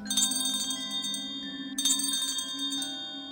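A small hand bell with a wooden handle is shaken in a quiet lobby, giving two faint, bright rings, each with a lingering metallic decay.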